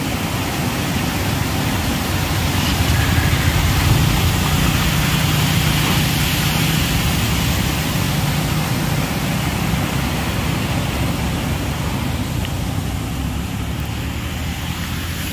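Water falling from a height in the hills near Pasighat, Arunachal Pradesh, a loud, constant broadband rush that continues unbroken without voices.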